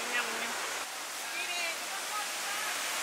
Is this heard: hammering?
no